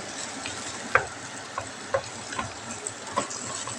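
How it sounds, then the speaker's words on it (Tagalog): Small pieces of beef fry in a pan, a constant close sizzle with a few sharp pops and utensil taps scattered through it, with no talk. "Tapos, konting fry lang ito kasi ayaw nila yung masyadong luto."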